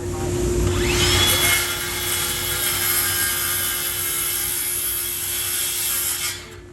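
Jigsaw cutting wood in a theater workshop, a loud continuous buzzing saw drone with a steady whine that runs for several seconds before tapering off.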